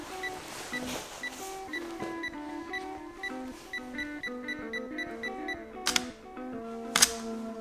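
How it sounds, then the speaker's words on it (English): Camera shutter released on a 10-second self-timer during a home product photography setup, with a rapid run of beeping countdown tones repeating steadily and two sharper clicks near the end. "what I'm doing is I'm pressing the shutter and I have 10 seconds to run here"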